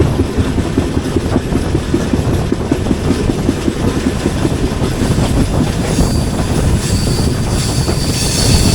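The Udyan Express 11301 passenger train rolls along the down line on its Mumbai to Bengaluru run, heard close and loud as a steady roar with continuous rhythmic wheel clatter and rumble.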